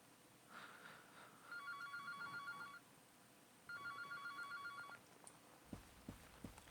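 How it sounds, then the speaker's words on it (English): A phone rings in the video game Anthology of the Killer, two electronic trilling bursts about a second long with a pause between them, faint against quiet background noise. "Well, the phone is ringing again."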